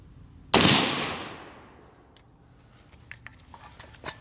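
A single 6mm ARC rifle shot fired at a target: one loud, sharp crack with a long rolling echo, then faint scattered clicks and taps.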